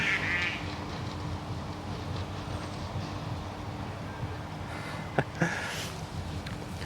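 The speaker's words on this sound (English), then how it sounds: "He pissed off some of those ducks." A few duck quacks sound faintly over steady outdoor ambience beside a canal, with a couple of sharper calls near the end.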